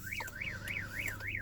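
A 2020 Volkswagen Polo's car alarm wails steadily, a loud rising-and-falling siren tone repeating about every third of a second, close by with no voices over it.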